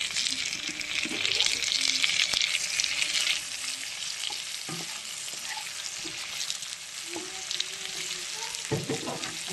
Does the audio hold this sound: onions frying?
yes